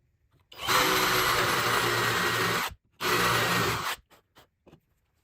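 A 1.25 inch Forstner bit bores a hole in wood for a birdhouse: a loud, close power-drill whine runs about two seconds, stops briefly, runs again for a second, then a few light taps follow.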